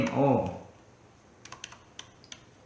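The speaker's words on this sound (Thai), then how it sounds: "กดที่คีย์บอร์ดนะ" A short spoken phrase is followed by a handful of light, separate keystrokes on a computer keyboard, tapped at an uneven pace, close and fairly soft.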